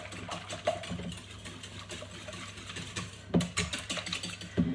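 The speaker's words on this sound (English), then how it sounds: "Get these eggs nicely whisked up." Eggs whisked in a bowl for blueberry muffins, a rapid, irregular clatter of the whisk against the bowl, close and busy, with a few sharper knocks toward the end.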